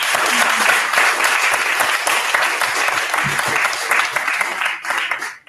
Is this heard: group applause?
yes